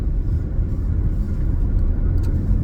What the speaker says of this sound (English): my apologies, guys, I'm driving